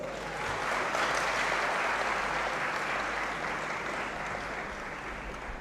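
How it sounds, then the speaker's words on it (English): Graduates in a great hall at a college of humanities congregation ceremony clapping together, a broad continuous wash of many hands rising quickly and holding steady for several seconds. "Clap for yourself."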